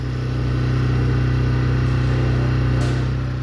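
A carburetted motorcycle engine idles steadily at raised revs, around 3000 RPM, with an even, fast-pulsing drone that stays close and constant and no talk over it.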